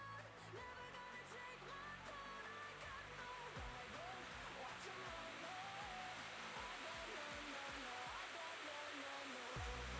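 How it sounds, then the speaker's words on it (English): An HP Omen 16 gaming laptop with an RTX 3060 and Intel i7-11800H runs its cooling fans at full speed, giving a loud, steady whooshing roar that holds constant throughout. "we are approaching max fan now at 100 RPM increments"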